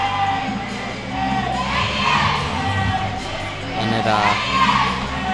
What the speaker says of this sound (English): The crowd's getting them pumped up.